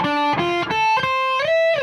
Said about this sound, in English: So if I play it slow, it sounds like this.